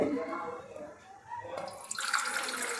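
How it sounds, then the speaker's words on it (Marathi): Water splashes into a pot on a gas stove for gulab jamun sugar syrup, a bubbly gurgling pour that rises in pitch as it fills, following a bit of speech at the start. "त्याच्यामध्ये पाणी ओतूया"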